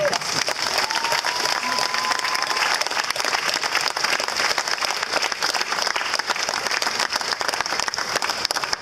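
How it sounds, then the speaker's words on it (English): Rally crowd clapping steadily for the full stretch, dense and even, with occasional voices and a faint tone underneath. "Let's give them a clap."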